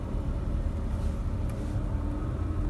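A car driving slowly in first gear with a beginner at the wheel, giving a steady low engine and road rumble from inside the cabin throughout.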